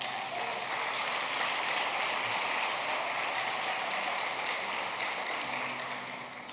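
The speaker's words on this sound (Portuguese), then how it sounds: "Dê um aplauso a Ele." A congregation applauds during an evangelical church service, a dense continuous wash of clapping that holds steady and fades slightly at the end, with no talk over it.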